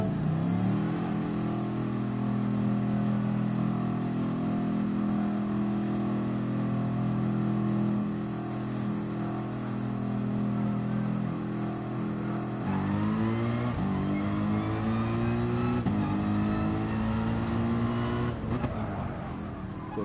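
A Gr3 race car engine drones steadily in a video game at Fuji, holding a loud, sustained high-revving note, then shifts and climbs again with gear changes near the end.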